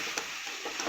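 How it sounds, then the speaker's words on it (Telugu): Food fries in a pan, giving a steady, close, dense hiss of sizzling oil throughout, with faint stirring ticks on top. "చూడండి ఇలాగ బాగా ఫ్రై చేసేస్తానండి"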